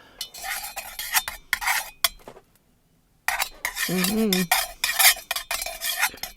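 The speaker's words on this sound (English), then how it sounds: "We're going to stir it with this." A utensil scrapes and clinks against a container while stirring candle wax, in irregular near bursts with a brief silent gap. A voice hums or speaks briefly in the middle.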